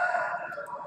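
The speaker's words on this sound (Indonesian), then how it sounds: "Suara ayam mantap sekali." A rooster crows in a short, sustained call that is moderately loud and fairly close, with no talking over it.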